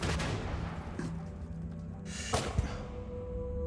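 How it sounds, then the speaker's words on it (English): Grenade blasts and gunfire in the video game Starfield, several sharp cracks and thumps over a low, steady in-game rumble, at moderate loudness with no talk. "Okay, I'm gonna throw a grenade."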